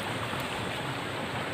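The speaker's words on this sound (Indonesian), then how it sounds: "Tapi ini masih, udah mulai gerimis." Light drizzle falls outdoors along a path between rice paddies in the rainy season, a steady dense hiss of fine rain with no breaks, fairly loud and close.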